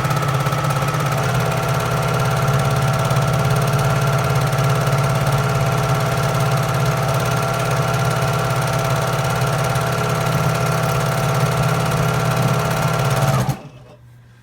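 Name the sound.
sewing machine top stitching water bottle cover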